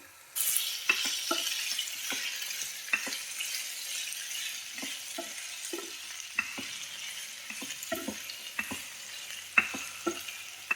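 Onions frying in oil for kosambari, a soft, steady sizzle close by, broken by frequent light clicks and taps of a spoon against the pan.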